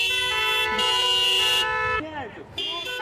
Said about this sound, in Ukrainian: Скрізь в Україні сьогодні звучали автомобільні клаксони.